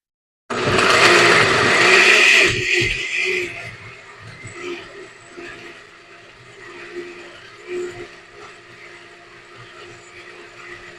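A blender whirs loudly for about two seconds as it purees roasted vegetables with their skins on, then winds down to quieter kitchen noises.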